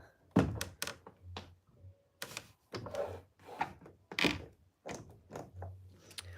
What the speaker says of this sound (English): this door doesn't close.